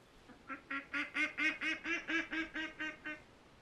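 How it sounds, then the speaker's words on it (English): Ducks in the hunting game Way of the Hunter quack in a quick run of about a dozen evenly spaced calls, fairly near and clear with no talk over them. "These ducks seem pretty fun."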